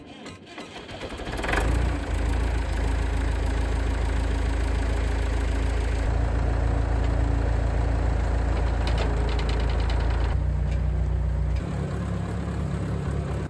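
A tractor engine runs steadily on a rural property, a loud, continuous low rumble with a knocking idle character that holds for the whole stretch, the pitch shifting slightly near the end.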